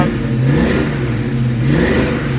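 A cold car engine in a T-top coupe is blipped twice, each rev rising quickly and sagging back toward idle. The two revs are evenly spaced, close and fairly loud, and no talk is heard over them.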